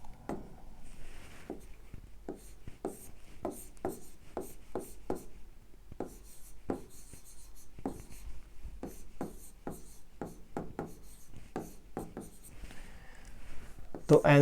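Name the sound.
writing on paper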